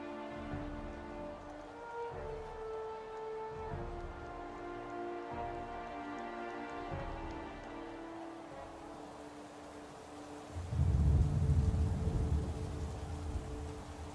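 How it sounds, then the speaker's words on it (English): Steady rain patter from the Madden 18 football video game, with a deep rumble of thunder rolling in partway through, heard under a looping game music bed with no talk. "Oh, great, now it's raining."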